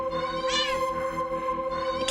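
A video game cat gives a couple of short, close meows, one rising whine early on and a sharper cry at the end, over a steady tonal background hum.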